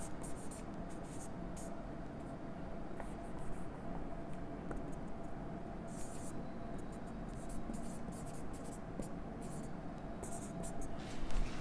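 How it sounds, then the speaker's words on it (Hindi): A marker squeaks and scratches across a board in short strokes during an organic chemistry lesson, faint against a steady room hiss with no talking. "तो देखिए मैं इसको ये लिख रहा हूं"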